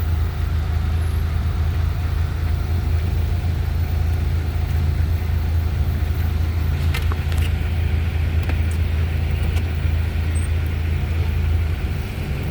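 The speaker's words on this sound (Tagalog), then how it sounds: "Grabe, traffic na naman eh." Steady, loud road traffic rumbles outside the Philippine Arena in the Philippines as cars, trucks and buses idle and crawl past in heavy post-concert congestion, with a continuous low drone and a few brief air-brake hisses.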